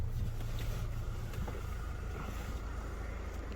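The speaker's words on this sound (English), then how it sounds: "I'm not gonna shut off the engine." An eleven-seat Kia Carnival diesel idles outdoors with a steady low rumble and a constant hiss of wind. No one speaks.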